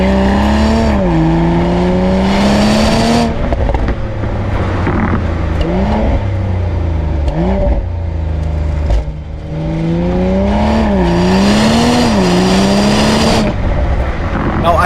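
A BMW Z4 M40i two-seater sports car with a 3-liter inline-six pulls hard, its engine note climbing and dropping through loud revving runs, close up, with brief gaps between gear changes.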